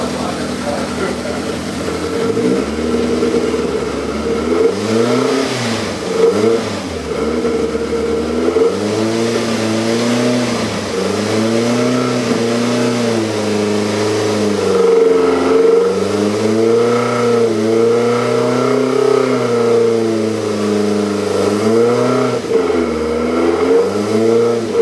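A 1983 VW Rabbit GTI engine revs in gear on a dyno, with long swelling pulls that climb and fall while a loud, close drone continues and a voice talks over it now and then.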